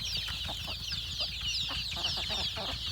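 A cluster of chicken chicks chirps and clucks continuously, high, busy peeps layered over a soft low background of farmyard noise, nearby and steady.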